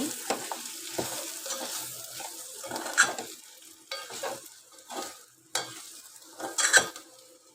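Mutton frying with garam masala in a pan, a soft sizzle broken by repeated scraping and clinking strokes of a ladle stirring at an uneven rhythm, with no talk.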